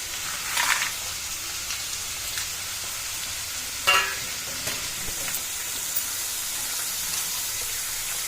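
Oil sizzling with dried red chillies frying for mango pickle, a faint steady hiss broken by a few brief louder clinks and stirring scrapes, with no talking.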